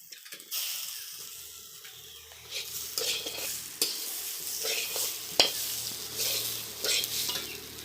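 Chopped vegetables, potato first, fry and get stirred in a pan: a steady sizzle with scraping and clattering spoon strokes, close and fairly quiet.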